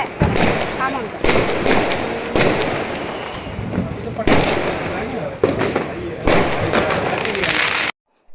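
Firecrackers burst during Diwali celebrations, with about six loud, crackling explosions in close succession. People talk among the blasts, and the sound drops to silence at the end.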